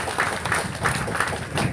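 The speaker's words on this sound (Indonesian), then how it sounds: "tepuk tangan buat adik kita" A crowd applauds a young speaker at a community gathering, giving brief, dense clapping that stays steady and moderately loud.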